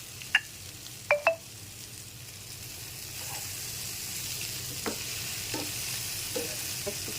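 Pumpkin pieces frying in a pan, a steady soft sizzle running throughout with a few sharp clinks of a spatula stirring early on and lighter scrapes later, no voices.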